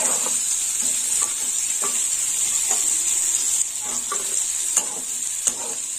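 Bitter gourd slices fry in hot oil with a steady, bright sizzle, punctuated by repeated stirring scrapes and light utensil clicks, close and continuous without talk.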